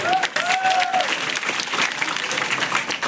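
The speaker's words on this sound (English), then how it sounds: "So big round of applause for all of you." Sustained applause from a school audience at a Model UN closing ceremony, dense and steady throughout, with a brief tonal squeal near the start.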